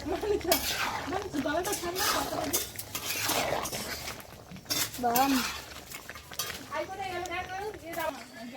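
Desi chicken is being cooked down with potatoes and peas in a pan, with repeated utensil scrapes and clinks of stirring against the metal. A voice talks over the cooking throughout.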